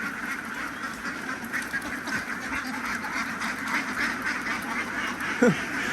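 A flock of laying ducks quacks continuously in a dense, overlapping chorus, steady and moderately loud with no pauses.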